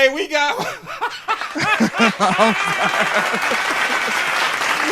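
Applause breaks out for a guest on a casual sports talk show, a dense burst of clapping mixed with chuckles and laughter, with voices talking over it throughout.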